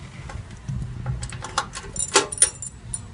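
Keys for a Technic safe jangle in a series of short metallic clinks and rattles, close by, growing busier toward the end over faint room noise.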